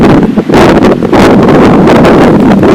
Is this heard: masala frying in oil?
no